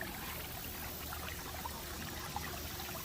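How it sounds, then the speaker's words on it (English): Water runs down from the hills beside the Coosa River in Alabama, a steady, faint, broadband trickle and rush that goes on unbroken. "So much water's running from out of the hills"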